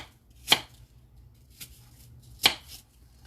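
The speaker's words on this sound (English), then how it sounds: "Chop up some more." Chopping on a small cutting board while making crockpot chicken and dumplings: two crisp, close knife thuds about two seconds apart, with a faint tap between them and no talking.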